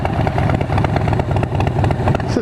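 A Harley-Davidson Breakout with a built-up big bore twin cam engine idling strongly, a loud, close, steady rumbling throb with an uneven lumpy pulse and no talking over it.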